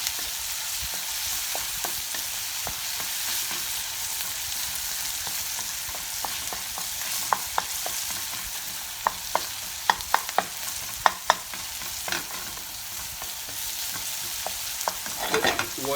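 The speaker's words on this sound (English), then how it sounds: "We're going to caramelize these onions" Onions caramelize in a pan with a continuous sizzle, while a spoon stirs them in scattered scraping strokes that come more often toward the end; nearby and fairly loud.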